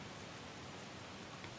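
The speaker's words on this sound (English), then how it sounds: "Oh, it's raining." Steady rain falls in the video game Sifu, a dense, even hiss of drops with no break and no voices.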